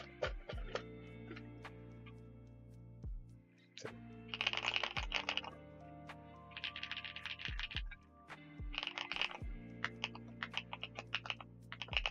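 Typing on a mechanical keyboard fitted with clacky Sugar Rush switches and ABS keycaps, with bursts of rapid close-up clacking separated by pauses and single heavier keystrokes, crisp and quiet.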